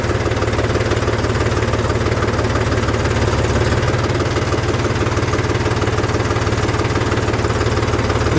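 A Mahindra 275DI XP Plus tractor engine idles close by, a loud, steady low-pitched chugging rumble with constant vibration that runs unbroken, with no talking.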